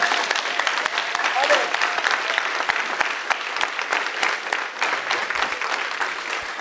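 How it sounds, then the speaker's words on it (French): A French church congregation claps together during a service, a sustained crackle of many hands at moderate loudness, with some voices underneath. "on va applaudir le Seigneur."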